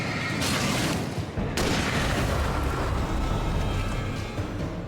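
Hunting rifle shots in Alan Wake 2, two heavy booming blasts a second apart, loud and near, over a continuous dense roar that holds steady afterward.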